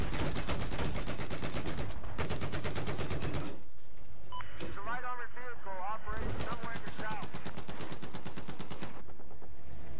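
Battlefield 4 gunfire on the Lancang Dam map: loud, dense bursts of automatic weapon fire that break off for a few seconds, then resume in rapid rattling volleys.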